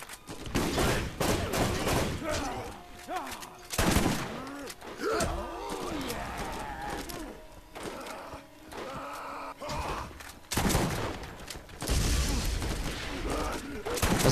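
Gunfire in the video game Borderlands comes as rapid volleys of shots and bursts, loud and repeated across the stretch, with a voice speaking over the shooting at times.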